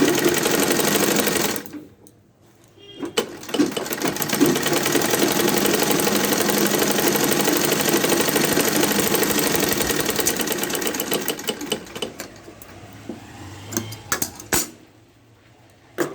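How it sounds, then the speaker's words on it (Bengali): Sewing machine running at speed while stitching a blouse, a loud steady mechanical whir with a short pause near the start and stuttering stops and restarts toward the end. "এবার এটা পুরোটা মেশিন দিয়ে মারবো সেলাই করে নেবো"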